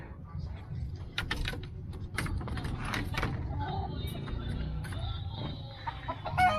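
Captured wild junglefowl chickens kept in an enclosure cluck amid busy rustling and knocking, with scattered short calls close by over a continuous low background.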